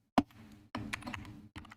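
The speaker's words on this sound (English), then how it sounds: "Wait, hold on, let me type this." Typing on a computer keyboard during a coding livestream: an isolated keystroke followed by two dense runs of quick clicking, separated by short pauses.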